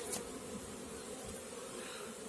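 Honeybees hum at an opened hive during a winter inspection, with bees clustered even on the outermost frame; a steady, dense buzzing holds close and even throughout, with no voices.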